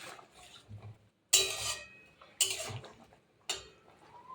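A utensil scrapes and stirs through thickened poppy seed hilsa fish curry in a pan, making three distinct bursts of clattering and scraping separated by pauses, up close and with no talking.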